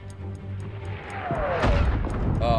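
Explosions in the WW1 tactical game Isonzo rumble with deep, muffled booms and a falling whine, building louder toward the end amid game noise.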